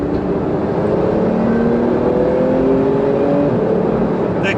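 A Porsche GT2 RS engine revs and accelerates with a rising, smooth growl, loud and close, with a slight whine climbing through the gears.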